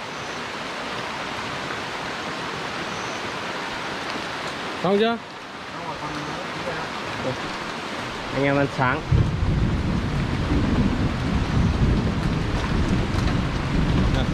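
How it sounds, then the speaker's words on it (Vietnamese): Light rain falling steadily in a forest, a soft continuous hiss that swells louder in the last seconds, with people briefly talking over it. "Vẫn còn đang mưa nhưng mà mưa nhỏ dần đi không?"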